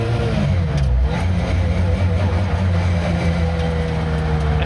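The engine of a Lancia 037 Group B rally restomod roars loudly from close by while the car is driven, a continuous heavy drone with a slight rise in revs.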